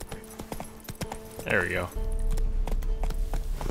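Hooves of Roach, the horse in The Witcher 3, clop in a quick running rhythm, with a brief whinny-like tone midway and someone talking over the steps.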